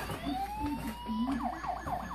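Faint electronic toy fire truck siren, a rising wail that switches to a quick warbling yelp, fairly quiet and tinny like a small speaker.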